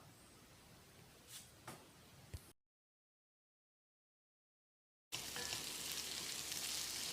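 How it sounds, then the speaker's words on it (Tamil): Vegetables for Tirunelveli sodhi kulambu sizzle and fry in a hot pan, a few clinks of stirring, then a gap of silence before a louder, steady sizzling resumes. "இந்த காய்கறிகளை ஒரு ரெண்டு நிமிஷம் நல்லா வதக்கிடலாம்"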